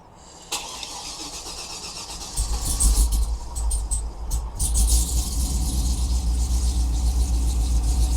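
The rebuilt Trailblazer SS engine cranks and catches, then settles into a deep, steady idle rumble that stays close and loud, with the starter's whir at the beginning.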